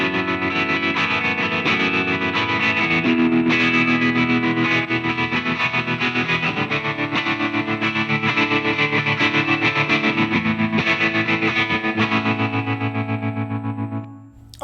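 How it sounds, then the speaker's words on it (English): An electric guitar plays through tremolo and reverb effects in Fender Studio, with sustained, distorted chords pulsing rhythmically in volume and ringing with added space, loud and continuous until a brief fade at the end. "I quite like that tremolo sound."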